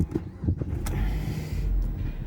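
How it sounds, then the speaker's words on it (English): A Mazda MX5 Roadster Coupe 2.0 Venture Edition starts up close by. A short click and whir come first, then the engine settles into a low, steady idle with no talking. "So I'll start the car up."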